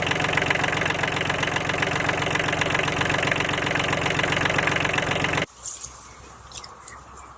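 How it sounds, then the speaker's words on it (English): A Kubota B1600DT 4WD compact tractor engine idles steadily with a rhythmic, knocking chug, close and loud, then cuts off abruptly, leaving quiet outdoor sounds. "The engine is still running like it should be"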